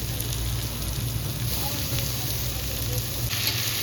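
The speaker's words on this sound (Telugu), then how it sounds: "ఇప్పుడు ఇందులో మనం మునక్కాడల్ని ఏవైతే నా ఉడకబెట్టిన మునక్కాడలు ఉన్నాయో అవి వేసుకోవాలి" Boiled drumsticks hit a pan of masala gravy frying in oil, raising a steady, close sizzle that crackles evenly throughout and swells slightly near the end.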